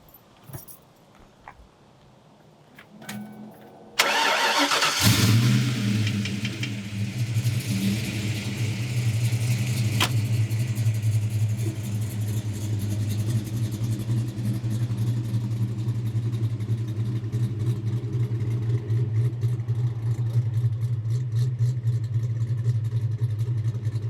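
A 1993 Ford Mustang Cobra cranks over and fires, then settles into a loud, steady, deep idle and rev with a strong low rumble that holds for about twenty seconds, preceded by a few seconds of faint handling noise.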